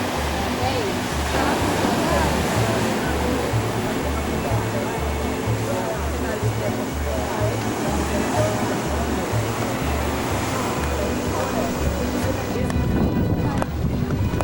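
Waves and surf roll steadily onto a beach at Tulum, Mexico, a continuous loud wash of breaking water with some wind buffeting across the microphone throughout.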